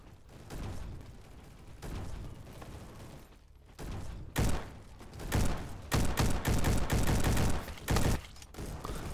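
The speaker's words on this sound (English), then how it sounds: "I think it's a form of machine gun I have." Machine gun fire in the online shooter game Bad Business, heard as bursts of loud shots with thuds and mechanical clatter that grow heavier and more frequent toward the end.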